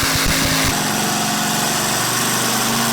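A six-engine pulling tractor at a tractor pull revs hard and holds a strained, rattling roar, like heavy machinery under full load, close and continuous.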